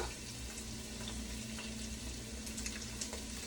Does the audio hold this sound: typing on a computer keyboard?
no